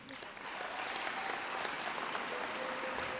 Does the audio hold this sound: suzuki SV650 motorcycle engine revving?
no